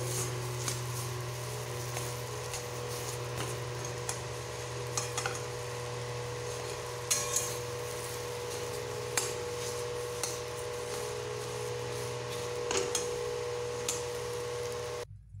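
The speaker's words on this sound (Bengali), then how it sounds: "এইবারে আমি সবগুলোকে একটু ভালোভাবে এইভাবে মিশিয়ে একটু কষিয়ে নেব।" Bottle gourd mixture with cumin being stirred and sautéed in a pan, a steady sizzle with soft intermittent spoon scrapes and taps against the cookware, close and without talk.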